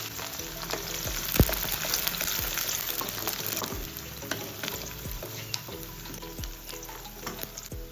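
Onion, fenugreek seeds and green chilli fry in hot oil for a sardine fish curry, giving a steady close sizzle with scattered sharp pops and a few spatula scrapes throughout, no voices.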